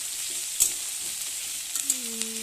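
Onions fry with bay leaf in a pan for a Tripuri-style country chicken dish, a steady broadband sizzle with a few sharp pops and clinks of stirring; no voices.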